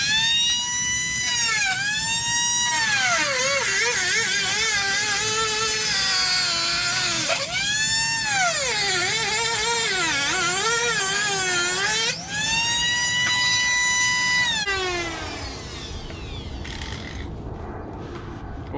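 A Dremel rotary tool with a cutoff wheel cuts a Honda Ruckus floor board, giving a loud, close, continuous high whine that rises and falls in pitch as the load changes, then winds down near the end.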